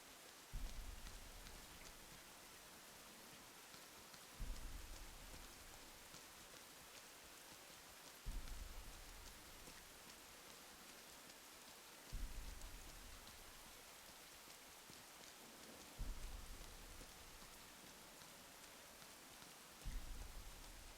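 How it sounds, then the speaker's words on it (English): Steady in-game rain from the video game Rain, a continuous hiss of falling drops with a soft low swell returning about every four seconds, heard alone with no voices. "There's the rain, some ambient kind of classical style music."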